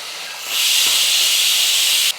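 Chopped tomatoes hit a pan of sautéing onions and set off a loud, steady hiss of sizzling that starts suddenly, holds for about a second and a half, then cuts off abruptly.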